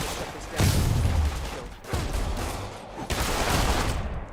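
Video game gunfire erupts in several bursts of loud, rapid shots that fill the scene in repeated waves, with no talk over them.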